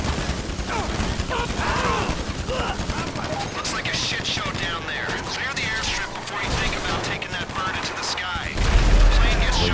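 Repeated bursts of gunfire in GTA Online during a heist, rapid volleys and single shots rattling on and off throughout, with a heavier hit near the end and a player's voice faintly underneath.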